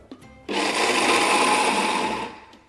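A blender whirs loudly for about two seconds as it purees pistachios with extra virgin olive oil, the motor starting abruptly, holding a steady grinding drone, then winding down.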